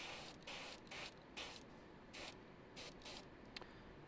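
Pro Acryl transparent paint sprayed from an airbrush onto black armor in short hissing bursts, about eight separate sprays with brief pauses between them, close and steady, with no talking.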